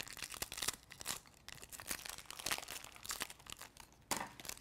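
Dollar-store blind bag packaging for small collectible figures is cut and torn open with scissors, giving a busy run of close crinkling, rustling and snipping plastic noises with no talking.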